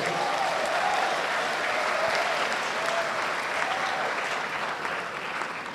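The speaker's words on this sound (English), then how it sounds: "Please give applause to our distinguished speakers." Steady applause from a large university lecture audience, sustained and even throughout, tapering off slightly at the end.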